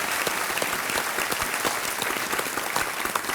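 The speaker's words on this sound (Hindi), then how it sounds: "तालियों के साथ इनका हम स्वागत करते हैं" Studio audience on the KBC quiz show breaks into steady, sustained applause to welcome a contestant's wife, a dense wash of clapping that carries evenly from start to finish.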